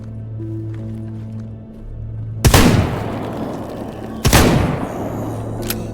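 Two loud gunshots ring out a couple of seconds apart in the video game STALKER GAMMA, each with a long echoing tail, over a low steady background hum.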